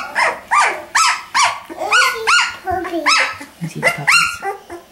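A doodle dog barks repeatedly in sharp, close bursts mixed with growls and yips, loud and irregular, while people talk nearby.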